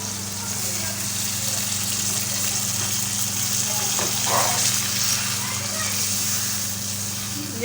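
Water poured into a pan of frying kaddu kofta curry gives a steady sizzling hiss and gush, with a brief louder splash partway through over a constant kitchen hum.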